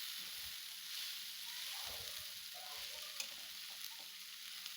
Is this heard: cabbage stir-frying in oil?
yes